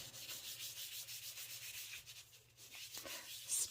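Embossing buddy powder pouch rubbed over a black card base, a soft, faint, steady brushing scrape with rhythmic strokes, close up and without voices.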